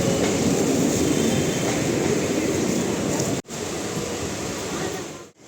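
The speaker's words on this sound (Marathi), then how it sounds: "आता माझी ट्रेन निघाली गोरेगाव स्टेशनहून बरोबर 7:40ला." Suburban train pulling out of Goregaon station in Mumbai, a loud steady rumble and rattle of wheels and carriage filling the whole clip, with a brief dropout partway through.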